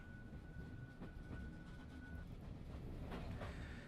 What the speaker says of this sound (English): Ooh, I'm on a train.